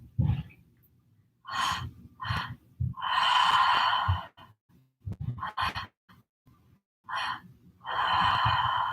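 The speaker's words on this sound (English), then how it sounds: "Just a few more breaths." Active pranayama breathing during a meditation session: a series of forceful, breathy exhales and inhales, some short and sharp, others long and sustained, repeating in an uneven rhythm, close and fairly loud with no talking.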